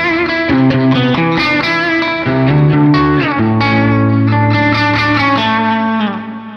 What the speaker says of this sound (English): In fact, in E standard it would actually sound like this.